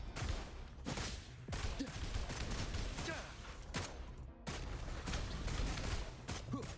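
Rapid bursts of gunfire from the video game Wuthering Waves crackle in dense, repeated volleys with brief gaps, loud and continuous across the stretch, with no talking over them.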